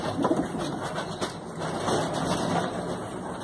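Pigeons in a small loft give soft, continuous cooing amid a murmur of background noise, with no clear pauses.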